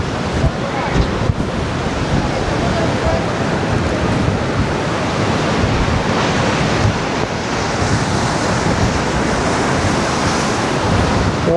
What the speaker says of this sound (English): It has been quite windy lately, but not that much as right now.